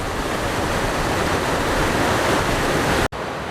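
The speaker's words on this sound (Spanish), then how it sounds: "Aprovechamos para descansar y relajarnos con el sonido del agua cayendo." A waterfall about 25 metres high near El Chaltén roars as a dense, constant broadband rush, broken by one abrupt dropout near the end.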